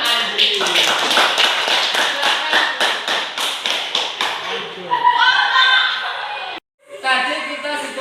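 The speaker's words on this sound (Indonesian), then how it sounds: "tepuk tangan untuk kelompoknya Andri" A classroom group gives applause for a student group that has just presented: a fast, steady run of hand claps, close and loud, that fades out after a few seconds into voices chattering and laughing.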